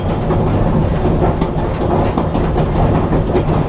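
Savannahlander passenger train runs on rails between Mount Surprise and Einasleigh, a loud, steady rumble with rhythmic wheel clicks heard from inside the cabin.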